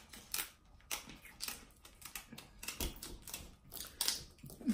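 Repeated crisp snips and crunches of scissors cutting straight down the middle of a seafood shell come in quick irregular bursts close up.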